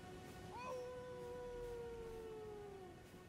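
A wolf howl in Elden Ring, one long rising-then-level wail lasting about two and a half seconds, sliding up at the start and fading down at the end over a steady game background.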